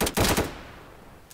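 Gunfire in a first-person shooter video game: a short loud burst of rapid shots, a brief pause, then another loud shot starting at the end, with no talking.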